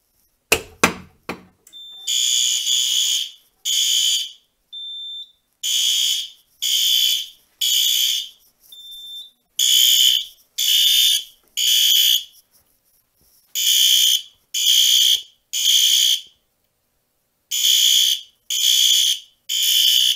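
Simplex 4010 fire alarm panel sounding after a pull station is activated, a loud electronic horn blaring in repeated short bursts with brief gaps and occasional pauses, preceded by a few sharp clicks at the start.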